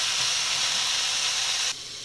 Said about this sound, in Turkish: tavuklarımı jülyen bir şekilde doğradım ve 5-6 kaşık sıvı yağın içerisine atarak her tarafının güzelce kızarmasını sağlayalım